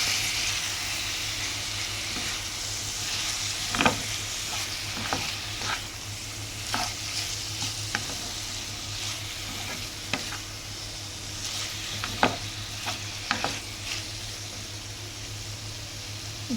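Tomato and ivy gourd curry with coriander is stirred in a hot pan, a low continuous sizzle under irregular scraping and clinking strokes of a spoon, close and without talk.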